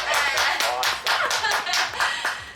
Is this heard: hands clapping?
yes